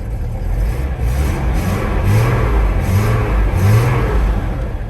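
Chevrolet Omega GLS engine running steadily at idle with a few soft pulses of rising revs, close and continuous with no talk.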